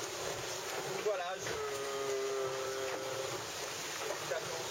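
The sailboat Cultisol at sea in the middle of the Atlantic, with a steady roar of wind and water around the hull and a brief whistling tone over it.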